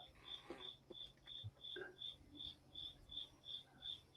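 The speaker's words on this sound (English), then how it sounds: "I can hear crickets in my audio." Crickets chirp in a steady, evenly spaced rhythm, a repeating high trill standing out against a quiet background with faint low noises.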